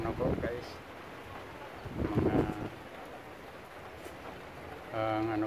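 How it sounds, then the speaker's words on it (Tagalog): Gusts of wind buffet the microphone in rough bursts, with faint rustling between them and a brief voice near the end. "malakas ang hangin"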